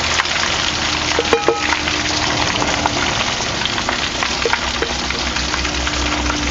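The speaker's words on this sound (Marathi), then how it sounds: "लालसर होसपर्यंत ते तळून घ्यायचं" Potato lollipops frying in hot oil: a loud, steady crackling sizzle fills the whole stretch with a few faint clinks, close by and without talk.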